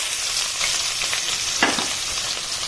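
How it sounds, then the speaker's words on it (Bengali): Onions frying in oil left over from frying bhetki fish, giving a steady, close hiss of sizzling with a brief louder crackle burst from stirring partway through. "পেঁয়াজটাকে একটু লালভাবে ভেজে নেব।"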